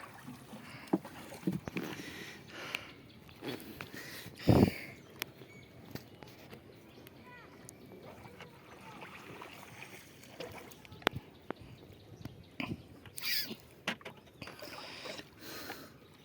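A rowboat moves across floodwater in Sylhet, with soft paddle splashes, watery patter and occasional knocks against the hull, all fairly quiet and without talk.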